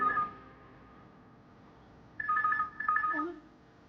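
Two short bursts of a telephone ringback tone sound after a pause, thin and moderately quiet, with no talking.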